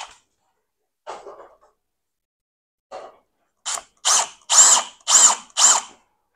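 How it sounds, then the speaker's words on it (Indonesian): Corded power drill boring a hole into a wall for a curtain rail wall plug, heard as a few short separate bursts followed by a run of closely spaced whirring pulses, near and loud with silence between. "Okay, kita nak tumbuk lubang."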